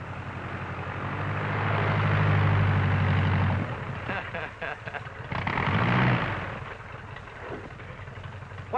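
A propeller airplane engine drones loudly with a low steady hum, then eases back as people talk over it.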